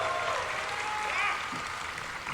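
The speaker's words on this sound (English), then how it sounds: "they're turning up the crowd noise" Crowd noise and applause fill a large PAX East convention hall during a Mafia: The Old Country showing, a steady wash of clapping and cheering that swells slightly partway through.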